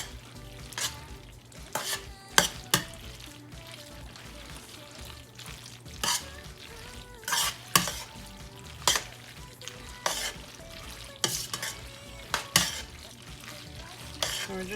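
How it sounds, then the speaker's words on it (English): A spoon stirring a cheesy dinner mixture in a sizzling pan, with repeated scraping and knocking strokes against the pan at an uneven rhythm over a low continuous frying hiss, fairly close. "we're just going to stir all this up. Make sure that the cheese is throughout."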